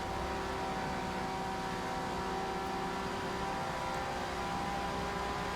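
Porsche GT3 R race car engine in the Forza Motorsport racing game, a steady sustained drone held at a fairly constant pitch throughout, with no pauses or breaks.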